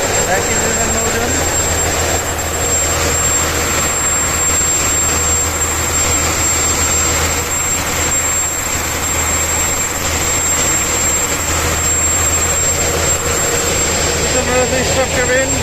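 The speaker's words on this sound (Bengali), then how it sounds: "লঞ্চের ইঞ্জিন রুম, এক ইঞ্জিনের নৌযান।" A single engine roars in the engine room of a passenger river launch. The drone is steady, heavy and close, unbroken for the whole stretch, with someone speaking over it.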